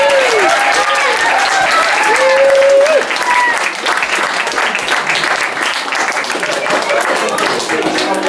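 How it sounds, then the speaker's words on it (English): Audience applause for a young helper named Finn at a live magic show, loud dense clapping from a crowd, with voices and cheers rising over it before it thins out toward the end. "Bit of applause for Finn for helping"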